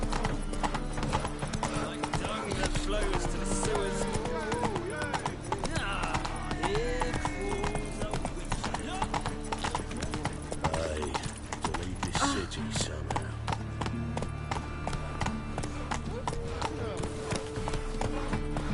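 Roach, Geralt's horse in The Witcher 3, gallops in a fast, steady clip-clop of hooves with an occasional whinny, set under continuous music and dialogue.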